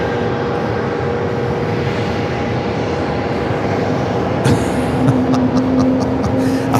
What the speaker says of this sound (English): I'm watching this Southwest flight do wheelies down here.